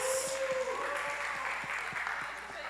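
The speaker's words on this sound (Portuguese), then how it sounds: "Palmas para o grupo 2. Palmas." Group applause from an audience at a church class, steady clapping under a continuous hum, with a voice speaking over it as the clapping slowly fades.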